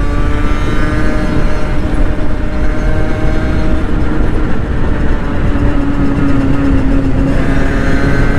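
A small motorcycle, such as a Yamaha TZR 50, accelerates hard with a loud, close buzzing engine note whose pitch climbs and falls through the gears over wind rush, with no talking.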